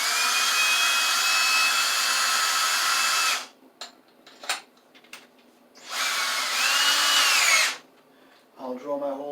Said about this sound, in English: I'll drill my holes in the corner here.